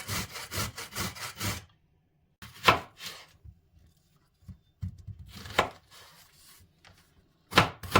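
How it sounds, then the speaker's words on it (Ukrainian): A knife chops onion into half rings on a cutting board, in several quick rhythmic bursts of close, crisp cuts separated by short pauses. "Та нарізаємо цибулю. Теж або дві середні, або одну крупненьку напівкільцями"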